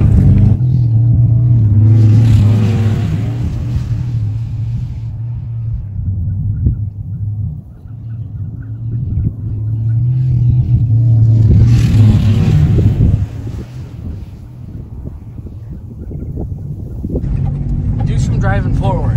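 A car engine running on canola oil in place of motor oil, a motor with 125,000 miles on it, rumbles loudly while driving forward, with clunky low droning and revving that rises and falls; a person talks over it.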